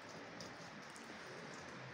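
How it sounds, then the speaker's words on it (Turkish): Steady rain falls on an open terrace where potted geraniums sit out to catch the water, a dense, even patter of drops throughout with no voices. "Yağmur yağıyor."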